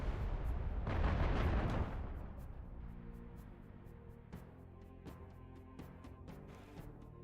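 Missiles in a Halo Reach space-combat mod fire with a roaring, rumbling burst, then distant explosions and thuds pop out of a low, sustained drone at moderate loudness.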